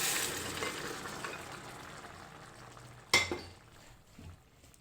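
Mutton sukka with spices frying in a pan gives a faint, steady sizzle, broken by one sharp clink of a utensil against the pan partway through.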